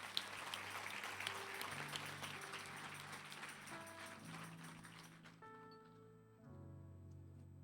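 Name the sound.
congregation applauding God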